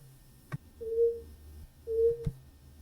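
A toothpick sample run through ring modulation gives two sharp, clicky hits, each paired with a short hollow tone that sounds like a buzzing beep, spaced about a second apart in a quiet mix.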